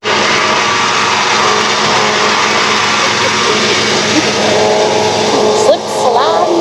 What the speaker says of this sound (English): Well, I'll fire up the truck first.